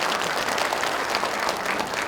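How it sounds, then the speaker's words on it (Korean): An audience applauds steadily at a meeting on regional integration in a county arts hall, a dense, even patter of many hands clapping throughout, with no talk over it. "큰 박수 부탁드립니다."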